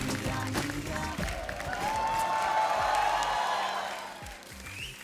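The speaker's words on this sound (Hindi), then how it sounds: "जोरदार तालियां।" A studio audience on a comedy talk show applauds and cheers, a broad wash of clapping that swells and then fades over a few seconds. Voices and background music can be heard along with it.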